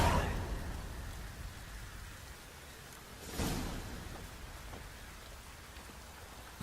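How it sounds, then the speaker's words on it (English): Steady rain pours throughout in The Witcher 3: Wild Hunt, with a brief swell of wind or distant rumble midway; no voices. "Looks like rain."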